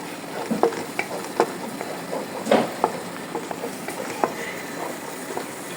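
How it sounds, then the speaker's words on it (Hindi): Green onion tops sautéing in a pan for a Singaporean-style rice dish, a soft, low sizzle with scattered scraping and stirring clicks from a utensil, close and fairly quiet. "अब इसको दोबारा हम हल्का सा पकाएंगे, यानी सौते करेंगे।"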